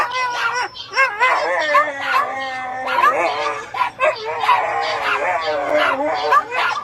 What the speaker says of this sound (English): and then they howl to go out.